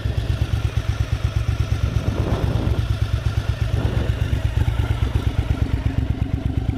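Engine of a Honda VTR1000 SP1 (RC51) motorcycle with 23,000 miles, a steady deep throbbing rumble with rapid pulsing, close and loud throughout, with no voices.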